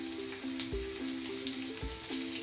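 Cumin and green chillies sizzle and crackle in hot oil for a tempering, a steady close frying hiss with occasional pops and a faint scrape of stirring.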